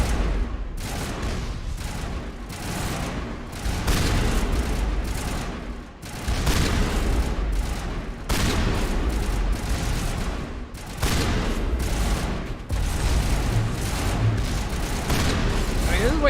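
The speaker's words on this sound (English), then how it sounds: "God, this gun is amazing now. Slug shot explosive rounds." Explosive slug rounds from a shotgun in Mass Effect, a dense run of heavy booming blasts repeating every second or so over a continuous din of game combat, loud and close throughout.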